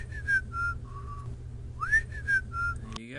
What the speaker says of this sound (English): the next part is whistling